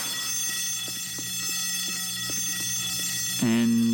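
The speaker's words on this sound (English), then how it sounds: "for as loud and cacophonous as that siren is, or alarm bell" An alarm bell in a video game rings with fast, regular strikes over a steady electronic drone, then a louder tone cuts in near the end.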